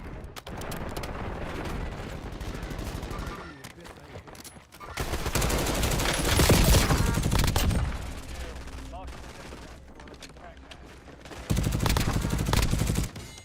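Rapid automatic gunfire and bursts in the video game Warzone, loud and dense, with heavy volleys, a quieter lull in the middle, then another intense barrage; game voices and talk mixed in.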